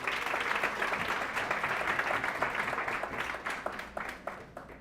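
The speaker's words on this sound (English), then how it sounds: "Let's give another big round of applause for Maria." An audience at the Women of Excellence Awards ceremony at Westbury Manor applauds, a dense, sustained burst of clapping from many hands that gradually thins and fades toward the end.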